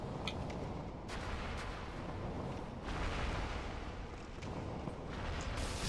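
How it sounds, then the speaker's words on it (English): Dull booming blasts and rumbling bursts from enemies exploding in Dark Souls, several heavy thumps spread across a continuous loud rumble, with no voices. "let's see if you roll away fast enough you can avoid the little explosion they do"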